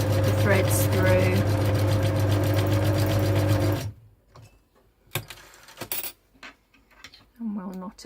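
Sewing machine running a zigzag stitch on fabric, a loud steady mechanical whir for about four seconds, then stopping, followed by clicks and handling noises, with a voice speaking briefly.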